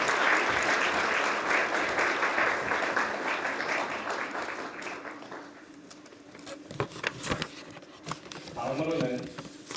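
A large audience at a formal judicial reform public hearing claps loudly for several seconds, then the applause fades out, leaving a quiet hall with a few scattered sounds and a voice starting to speak.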